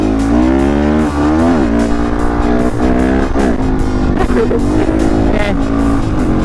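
A motorcycle engine revs hard and loud during a wheelie, with rising and falling pitch sweeps that repeat throughout and a voice talking over it.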